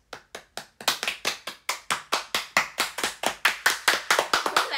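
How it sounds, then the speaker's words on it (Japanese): Sharp hand claps, a few spaced ones at first, then a steady quick run of about twenty crisp claps that grows louder and denser, nearby with no talking. "ママの方が大きい拍手できる。"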